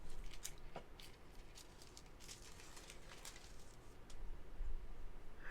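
Foil cut by hand with scissors for crafting, soft repeated snipping and crinkling at close range, fairly quiet, with a faint thump near the end.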